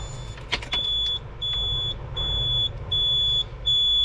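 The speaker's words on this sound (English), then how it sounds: "I don't know if I'm meant to wait for that beeping or not." A steady series of high electronic beeps repeats about every three-quarters of a second over a low rumbling engine hum, fairly close, during barley outloading at harvest in Western Australia.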